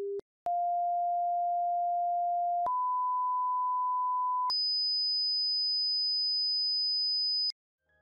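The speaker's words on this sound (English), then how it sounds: "When a sine wave AC voltage is connected to a speaker, it sounds like this." Pure sine-wave tones play from a speaker in sequence, each steady and held for a couple of seconds, stepping up in pitch with brief gaps between.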